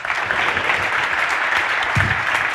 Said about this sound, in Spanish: Un aplauso para Jorge, por favor.